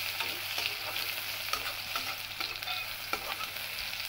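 Mustard greens with chilli frying in a pan, a continuous bright sizzle broken by regular scraping stirs from a spatula, close and fairly loud with no talking.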